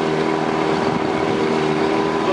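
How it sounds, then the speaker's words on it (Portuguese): A stock Tohatsu 20 HP outboard motor on a boat runs at a steady, loud idle, a constant droning hum with a buzzing, slightly rough texture and no change in pace. "estamos com o motor Tohatsu, é um motor 20 HP, o motor tá originalzinho"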